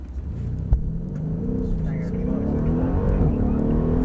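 Mercedes E63 AMG on a track at Mercedes Benz World, its engine rumbling and rising in pitch as it accelerates after a sharp knock, loud and continuous with people talking over it.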